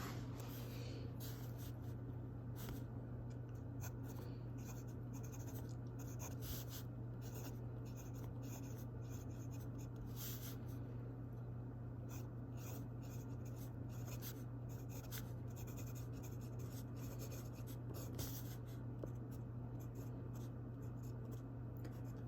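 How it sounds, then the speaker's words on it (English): A Lamy fountain pen with an extra fine nib writes on paper. It gives a quiet, steady scratching over a low constant hum, with small irregular ticks from the strokes and no talking. "So here is the Lamy extra fine nib."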